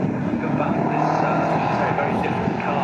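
GT4 race cars, including a Toyota Supra and two McLarens, roar around Silverstone in a steady, dense engine drone that never drops away, with a commentator talking over it throughout.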